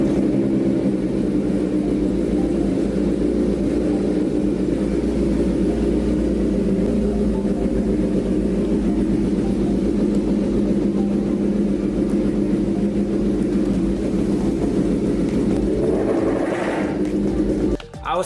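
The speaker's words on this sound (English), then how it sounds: "And let me just turn the bike on." A Suzuki GSX-S1000 motorcycle engine idles steadily close by, a continuous low rumble holding even for the whole stretch with a brief change near the end.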